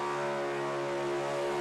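A Ford Mustang engine screams at very high revs during a burnout at Summernats, a steady, loud, sustained tone held throughout without a break.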